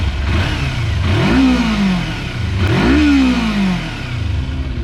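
A Kawasaki Versys motorcycle engine revs twice in quick succession, each rise in pitch climbing then falling back, loud and close over a steady idling rumble with no talking.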